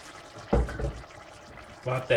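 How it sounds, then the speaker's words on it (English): Water from freshly cooked pasta is poured off in the kitchen, heard as two short splashing gushes about a second apart, close and moderately loud against a quiet background. "Pour the water"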